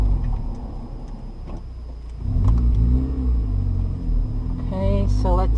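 A manual car engine held in first gear rumbles steadily as the car rolls slowly through a parking lot, with a mild rise in revs partway through and a voice briefly heard near the end.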